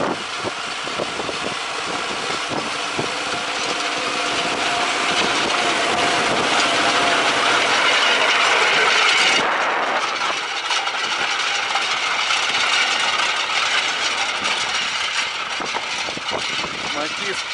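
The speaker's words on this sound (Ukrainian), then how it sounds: "Тут зразу каткують трактористи." Tractors rolling a rapeseed field at harvest's end, a steady broadband engine drone with vibration that continues throughout, loud and close, shifting character partway through as the machine moves.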